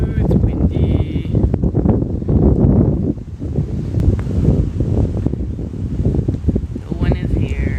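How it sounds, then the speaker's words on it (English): Strong wind buffets the microphone at a river delta, a loud continuous roar with gusting rumble throughout, and a person speaks over it. "Ooh, it's windy."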